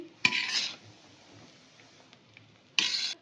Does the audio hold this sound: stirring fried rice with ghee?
yes